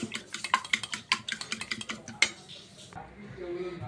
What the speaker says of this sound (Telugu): మొత్తం మూడు గుడ్లు వేసేసాక అప్పుడు కలుపుదాం త్రీ ఎగ్స్ ఇలా బాగా మిక్స్ చేసుకుంటే